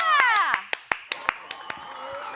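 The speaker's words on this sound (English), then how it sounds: "round of applause for Coral." A small group claps briefly in a round of applause for a child at an arcade, with scattered sharp claps over loud, high-pitched voices talking and calling out.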